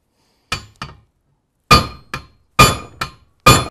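Sharp metallic hammer-like strikes of a big 3/4 inch steel piece against a STIHL chainsaw bar nose with a Forester aftermarket nose sprocket, six close blows in pairs with short ringing decay, no talk.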